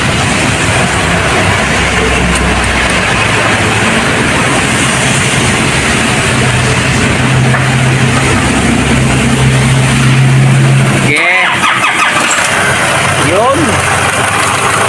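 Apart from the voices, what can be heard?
2010 Nissan Navara engine running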